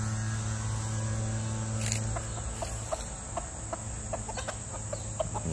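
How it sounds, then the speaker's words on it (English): Chickens out in a grassy clover patch give scattered soft clucks over a steady bed of insect and cricket buzz, with a few sharper calls toward the end and no talk. "Look at that little chicken run."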